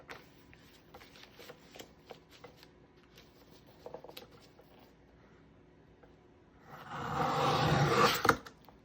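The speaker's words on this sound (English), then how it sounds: "Do love my trimmer for this reason, because I can do a bunch at once." A paper trimmer slices through a stack of several sheets of junk-journal paper at once, a close, loud rasping cut lasting a second or two after quieter handling clicks and rustles.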